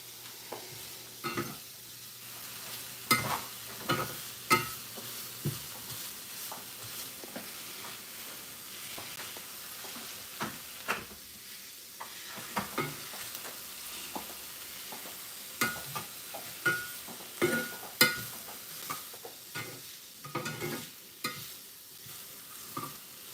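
Shrimp and vegetables frying in barbecue sauce, a low sizzle under repeated scraping and clattering strokes of a utensil stirring the pan, irregular and close, with no talking.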